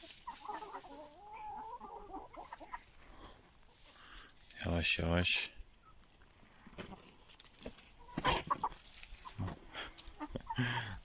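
Rooster Barut and hens cluck and squabble in a farmyard, with a couple of loud sharp outbursts standing out. Someone speaks briefly over the birds.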